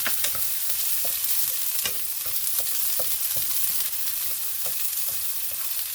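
Onions frying in a pan for a sardine dish, stirred with a utensil. A steady sizzle runs throughout, and sharp scraping clicks of the stirring land at an irregular pace. No one speaks.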